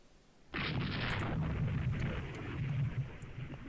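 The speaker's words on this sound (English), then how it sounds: "No, we're still under fire." A sudden roar of naval gunfire and explosions from a video game battle between battle cruiser lines swells into a sustained rumbling barrage, with a few sharper reports near the end.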